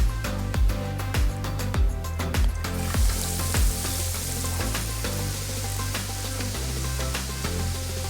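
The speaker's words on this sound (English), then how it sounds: "We're gonna let these fry in this oil for about 3 minutes or until they start to float." Battered fish fries in oil at about 350 degrees, a loud, continuous bubbling sizzle that runs throughout under a thumping music track, growing brighter and hissier partway through.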